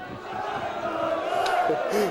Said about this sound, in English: The crowd chant bye, bye, bye, bye to the Whitehaven fans who are just sneaking out.